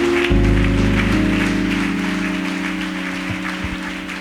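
A church congregation applauds and cheers in acclaim of Jesus, a dense, sustained wash of clapping under a steady sustained keyboard chord that slowly fades a little.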